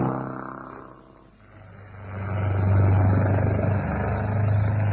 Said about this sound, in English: This is Police Helicopter Lima Bravo Foxtrot Tango.